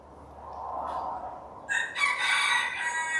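A rooster crows loudly and close, a long strained call rising out of a low background murmur of a crowd.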